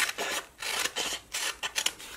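Scissors trimming sheets of paper stickers, a close, soft rasping snip repeated in about four quick cuts with short pauses between them and no voices.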